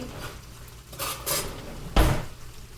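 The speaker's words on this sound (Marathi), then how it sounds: "आणि मस्त ढवळून घेते." A utensil stirs and scrapes bhindi bhaji (okra) in a pan with asafoetida, producing a few distinct clanks and scrapes, the loudest one near the end, up close and without any talk.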